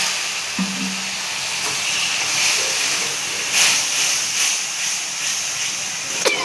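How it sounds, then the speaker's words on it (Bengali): Water poured into a hot pan of cumin-spiced potato and fish curry hisses and sizzles steadily, a close, continuous frying hiss with brief bursts of louder spatter and no talking. "একটুখানি জল দেবো,"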